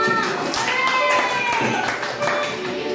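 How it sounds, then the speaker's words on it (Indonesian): A classroom group claps together at the close of a school lesson, brisk applause running steadily through the whole stretch with children's voices mixed in underneath. "Tepuk tangan untuk kita semua."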